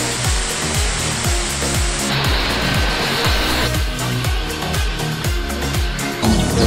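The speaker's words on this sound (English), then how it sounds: "It's to add the car soap and it's a foam cannon basically." A pressure washer fitted with a foam cannon sprays car soap onto a supercar, its pump pulsing in a fast, regular rhythm under a steady loud hiss of spray that shifts in tone as the aim changes.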